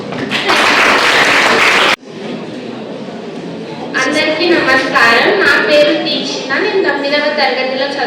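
Audience applause at a school social awareness programme run by a police cultural troupe at a high school in Jadcherla: a loud burst of clapping for about two seconds, then a voice speaks over a lingering room murmur.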